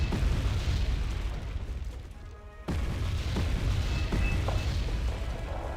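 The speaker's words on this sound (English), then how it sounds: "We've got Arty there now. Or mortars." Artillery or mortar explosions in the video game Wargame Red Dragon, a dense, continuous rumble of booms and blasts with a brief dip before the barrage resumes loudly.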